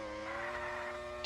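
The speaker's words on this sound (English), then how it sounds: "Alpine car of Esteban Ocon" An F1 race car engine from the Ultimate Racing 2D PC game, an Alpine car among the field in the Bahrain GP, gives a steady high buzzing drone with no talking over it.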